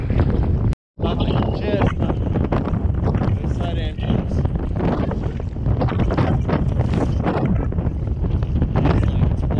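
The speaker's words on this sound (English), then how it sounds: "It's blowing, definitely 20 knots" Strong 20-knot headwind gusting over a sea kayak off Kangaroo Island, a loud continuous roar of wind buffeting the microphone with a brief dropout near the start.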